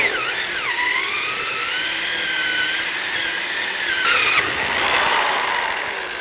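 A power drill whines steadily with a 2 3/8 inch hole saw grinding through a plastic rain barrel, its pitch rising and falling as it bites, loud and close with no talking.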